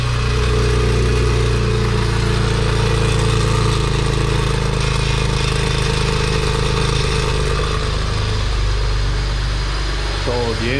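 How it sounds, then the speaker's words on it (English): A BMW 335i engine running steadily with a rattle in the exhaust, a loud, close, continuous drone with a low rumble, and a voice briefly talking over it. "We do have some kind of rattle in the exhaust."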